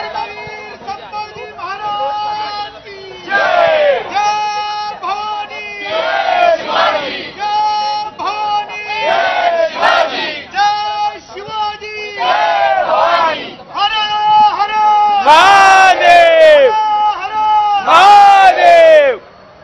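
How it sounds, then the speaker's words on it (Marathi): A large crowd celebrates at Lal Mahal in Pune, many voices chanting and shouting in loud rhythmic waves of cheering. The slogan calls rise and fall repeatedly and stay strong and close throughout. "सध्या लाल महाल परिसरात नागरिक जल्लोष व्यक्त करतायत"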